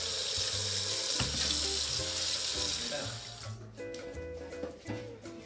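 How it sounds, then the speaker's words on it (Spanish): Running tap water splashing over food being rinsed at a kitchen sink while cooking turbot, a steady broadband wash with music-like tonal bands underneath, easing off near the end. "Esto lo lavamos."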